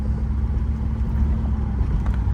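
Pontiac Formula Firebird with a 305 engine driving uphill, giving a steady low engine rumble with road and wind noise from inside the car, continuous and fairly loud with no speech.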